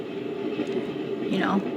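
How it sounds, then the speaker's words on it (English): A steady low rumbling hum like a passing train, continuous throughout, with a voice talking over it. "I got a little noise machine, and it sounds like I'm waiting for a train"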